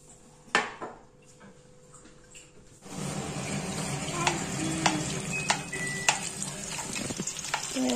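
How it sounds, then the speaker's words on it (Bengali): Chicken pieces for chilli chicken fry in a pan, a steady sizzle starting after a few quiet seconds of faint kitchen clatter and running water, with sharp metallic taps and stirring scrapes on top. "এই যে চলছে চিকেন ভাজা চিলি চিকেনের জন্য"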